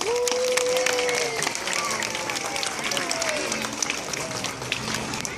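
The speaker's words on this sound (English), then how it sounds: "Let's give him a round of applause." Audience applause at an aquarium animal show, continuous crowd clapping mixed with cheers and children's voices, steady and moderately loud throughout.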